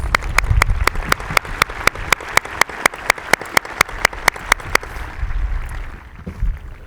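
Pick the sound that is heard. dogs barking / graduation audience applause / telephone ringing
graduation audience applause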